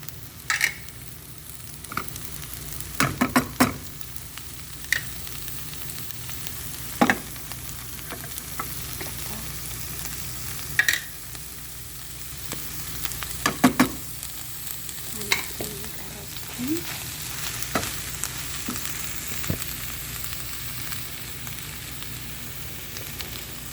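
Tuna sizzling in a frying pan as it is added and stirred, a steady close fry hiss with scattered clinks and scrapes of a utensil against the pan.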